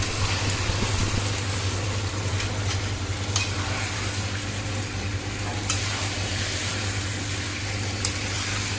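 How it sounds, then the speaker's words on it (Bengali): Chicken kosha being stir-fried in a pan: a steady, close sizzle and frying hiss with occasional scraping stirs over a low background hum, no voices. "চিকেনটাকে ভালো করে কষিয়ে নিচ্ছি।"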